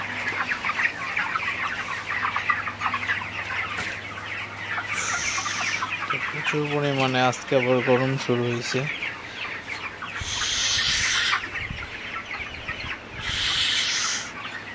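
Broiler chickens cluck and murmur throughout in a shed, with a brief burst of louder calls midway, while someone speaks over them at times.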